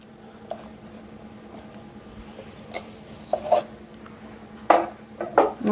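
Wet ingredients for banana muffins are stirred in a bowl, a soft rubbing swirl broken by a few sharp clinks and scrapes of utensil against the bowl, close and growing louder toward the end.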